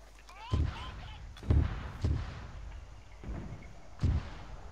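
Mortar rounds and explosions in Arma 3 land in a series of five heavy, booming thuds about a second apart, near and loud, with faint voices and battlefield noise between impacts.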